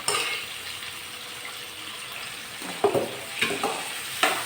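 Prawns frying in hot oil for a green mango prawn pickle, a steady close sizzle with a few sharp pops and stirring clatters toward the end.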